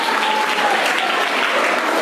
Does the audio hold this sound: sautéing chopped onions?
no